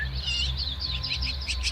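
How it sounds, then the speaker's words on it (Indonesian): Chirping birdsong with repeated high tweets over a low steady hum, from a primary-school forest play staged by a fourth-grade class. "hari yang indah, bunyi burung"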